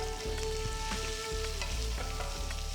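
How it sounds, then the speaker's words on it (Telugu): Mustard seeds and dried red chillies sizzling and popping in hot oil for a tempering, a dense continuous crackle and fry close up, without speech. "ఎండుమిరపకాయలని కట్ చేసి వేసి ఆవాలు చిటపటలాడిన తర్వాత 1/2 టీ స్పూన్ ఇంగువ వేసుకోవాలి"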